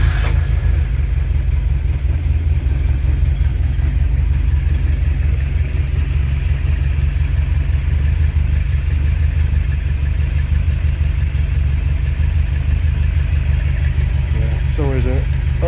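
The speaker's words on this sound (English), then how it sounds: "So let's just fire it up." Petrol engine of a Talbot Horizon car fitted with motorcycle carburettors, running at a fast idle on full choke: a loud, steady, close drone that holds throughout, with a brief higher chirp near the end.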